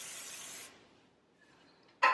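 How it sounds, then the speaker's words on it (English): Cooking spray hisses onto cake pans in a short burst that fades, followed by a quiet pause and a sharp sudden sound at the end. "So you're going to spray your pans with cooking spray."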